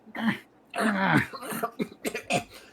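A voice imitating a few rough, breathy coughs and throat-clearing sounds in short bursts, close and moderately loud.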